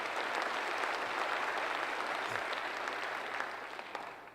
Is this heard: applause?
yes